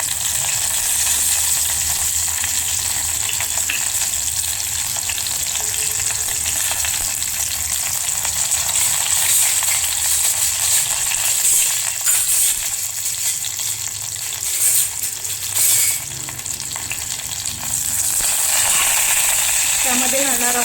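Curry leaves frying in hot oil in a pan, a loud continuous crackling sizzle close up throughout with occasional stirring, no talk.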